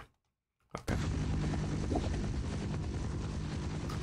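After a moment of silence, a loud, steady helicopter roar kicks in and holds in the first-person shooter Half-Life, a dense rotor and engine drone with no talk over it.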